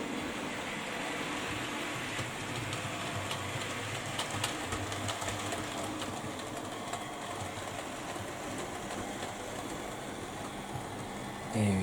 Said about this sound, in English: I think it's time to put the train to a stop now, so I'm going to pull it to the station.